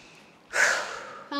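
One deep, audible breath drawn in through the nose during a gentle yoga flow, a close, breathy rush that swells and then fades, with a brief vocal sound at the very end.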